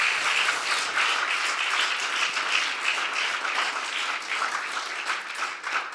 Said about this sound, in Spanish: Denle un aplauso de mi parte al Señor Dios Todopoderoso